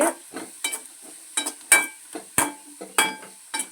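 Sliced beetroot frying in a pan for chutney, with a spatula scraping and clinking against the metal in an uneven rhythm of short strokes over a faint sizzle.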